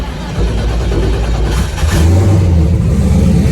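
SBE 5.3 engine in a Mustang firing up without its hood and revving, a loud rough rumbling idle that rises into a heavier roar partway through, with no talking.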